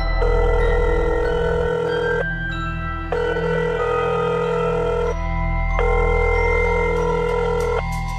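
A telephone rings in three distinct bursts of a steady electronic tone, clear and close, separated by short pauses, with no talk.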